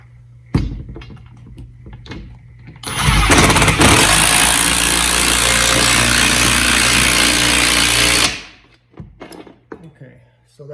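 A loud power tool drives a lag bolt through a bracket for a garage ceiling rack, starting after a few knocks and running as a steady harsh whir and rattle for about five seconds before stopping abruptly, with faint sounds afterward.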